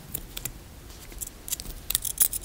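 Blunt scissors cut through beading material with a string of short, uneven snips and clicks, close and fairly quiet, growing a little louder toward the end.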